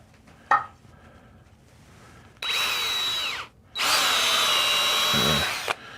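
A power drill bores into a wedge with steel inside, a short tap followed by two long, loud, whining runs of the bit grinding through the material, separated by a brief pause.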